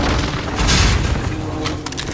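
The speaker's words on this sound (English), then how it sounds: "Enemy precision airstrike." A heavy, continuous rumbling explosion from an enemy precision airstrike in Call of Duty: Modern Warfare, loud and dense throughout with a sustained booming roar.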